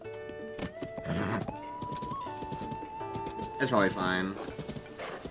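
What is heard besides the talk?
horse hooves clip-clopping in a video game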